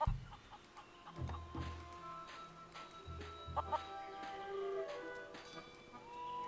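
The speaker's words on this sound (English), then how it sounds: "Have some feral chickens here." Feral chickens in The Curse of Monkey Island cluck softly and intermittently in a quiet game scene, with low thumps and faint ambient tones around them.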